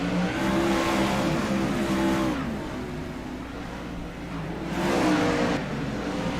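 Race cars, including two Mopar number 20s, roar around the track at an ASCA Hammer Down Kokomo Klash race, with a loud sustained engine drone that swells, fades slightly as the cars move off, then builds again on their return.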